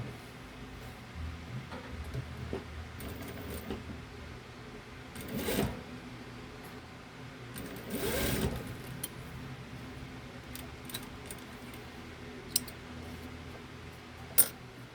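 A sewing machine runs in a few short bursts while topstitching a seam on a jacket or blazer pocket, with quiet pauses and small handling clicks and ticks between runs.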